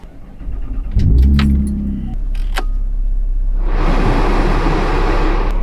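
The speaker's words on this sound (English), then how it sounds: "we're gonna go ahead and turn the car on and let the air ventilate a little bit" Keys jangle, then a Chevrolet Camaro converted into a tiny camper cranks and starts, its engine settling into a steady loud idle that runs on to the end.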